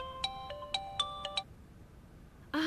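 A phone ringtone plays in an electronic melodic pattern of repeated tonal bursts for about a second and a half, then stops. A brief unrelated sound comes at the end, with no speech.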